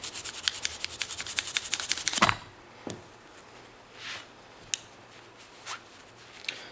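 File rasping surface rust off a Leatherman Wave multitool in quick repeated strokes for about two seconds, then a few scattered scrapes and rubs, close and fairly loud with no voices.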